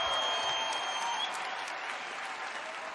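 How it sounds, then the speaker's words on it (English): An arena crowd at a live WWE Raw wrestling show applauds in a steady, dense wash of clapping and cheering that holds at an even level throughout, heard from a distance. "Let's give another round of applause for Carter and Elizabeth"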